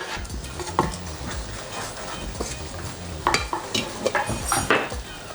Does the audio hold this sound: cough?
no